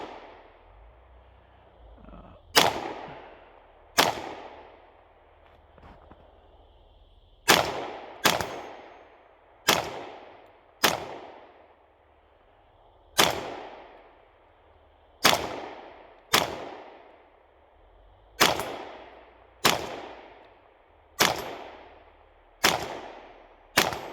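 Kel-Tec CMR-30 rifle shots at an outdoor range, each sharp crack followed by a decaying ring of a round striking a target; about fifteen spaced shots come in irregular groups, loud and close, with no talk.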